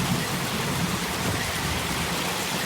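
Steady heavy rain pours during a severe tornado-warned thunderstorm with hail nearby, a dense continuous hiss with low rumbling thunder underneath, loud and close around a shipping container home.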